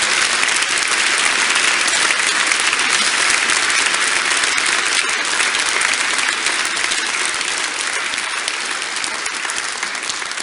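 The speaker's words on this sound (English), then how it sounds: "You're absolutely right to applaud." Sustained loud applause from a political conference audience after a speech, dense steady clapping throughout that tapers slightly toward the end, with no voices.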